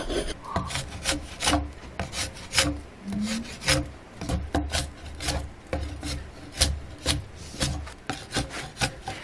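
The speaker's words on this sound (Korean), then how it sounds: "목공의 나무 깎는 소리" Repeated rasping scrapes of a hand tool shaving wood, steady strokes in an irregular rhythm, close and fairly loud with no talking.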